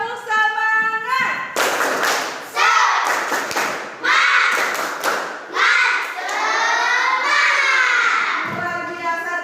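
A fifth-grade class performs a rhythmic clapping chant, shouting words together between bursts of loud, synchronized claps and stamps, the group's voices energetic and close.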